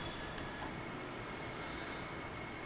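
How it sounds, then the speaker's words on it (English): A train in the game Train Sim World 3 gives a steady, low rumbling roar with faint squeaks on top, continuous and fairly quiet, without talking. "We're gonna stop the train right here."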